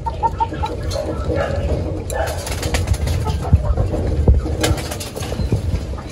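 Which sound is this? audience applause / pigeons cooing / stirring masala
pigeons cooing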